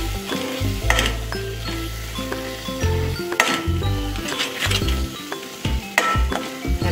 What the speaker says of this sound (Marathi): आता हे आपण चांगलं मिक्स करू।